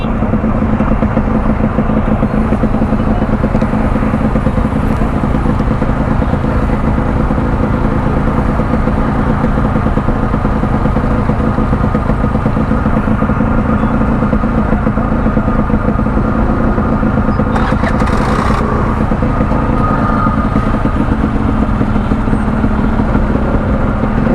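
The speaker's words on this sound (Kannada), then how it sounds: "ಐಡ್ಲಿಂಗ್ ಸ್ವಲ್ಪ ಜಾಸ್ತಿ ಮಾಡಿಬಿಟ್ಟಿದ್ದೆ, ಸ್ವಲ್ಪ ಕಮ್ಮಿ ಮಾಡಿದೆ." A Yamaha RX100 two-stroke motorcycle engine idles nearby, a loud, constant rumbling drone with little change over the whole stretch and a brief hiss near the end.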